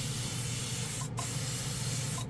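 An Iwata RG-3L airbrush spray gun at 30 psi sprays with a steady, close airy hiss, briefly cutting out twice as the trigger is released and pressed again.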